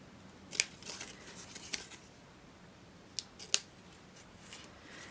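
Paper is cut with scissors for a handmade card. A few crisp snips come at uneven intervals, each one close and distinct against a quiet background with no voices.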